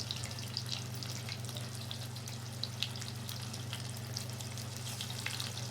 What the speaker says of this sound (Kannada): ಚೆನ್ನಾಗಿ ಫ್ರೈ ಮಾಡ್ಕೊಳ್ಳಿ ಇದನ್ನು.